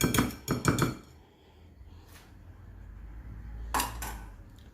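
A utensil clatters against a bowl as eggs are mixed with almond powder. A quick burst of several clinking strokes is followed by a quiet pause, one faint tap and then another short clatter.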